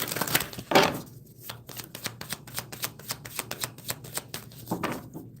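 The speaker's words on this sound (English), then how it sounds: "So shuffling this back," Tarot cards being shuffled up close, a rapid series of crisp riffling snaps and soft papery slaps in steady bursts, with no talking.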